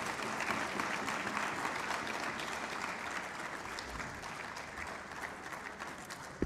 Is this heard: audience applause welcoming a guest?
yes